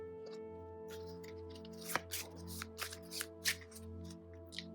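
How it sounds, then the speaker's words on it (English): Playing cards for a Lord of the Rings card game are shuffled into a deck close by, with a soft rustle building into several sharp riffling snaps near the end over a faint steady hum. "you definitely saw me just shuffle that in"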